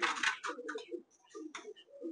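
Giribaz pigeon softly cooing in a few short low bursts at close range, with brief pauses between calls and no talk over them.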